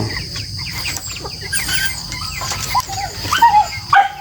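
Shrill, wavering cries from a goose ring out repeatedly over a steady outdoor hum, growing louder and more insistent toward the end, with clucking chickens around.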